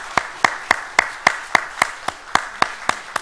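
A few hands clapping in a slow, steady rhythm in a church congregation. Each clap is distinct and evenly spaced, with a light wash of softer applause underneath.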